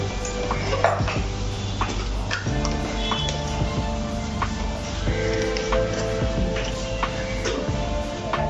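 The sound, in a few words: mixing spice stuffing for mirchi bhajji in a bowl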